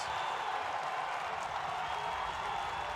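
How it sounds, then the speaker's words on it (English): Stadium crowd at a Major League Rugby match between Seattle and Utah, a steady, dense roar of cheering and applause rising behind the defending side, continuous throughout and unbroken by any distinct voice. "As the crowd get louder to get behind their defensive team."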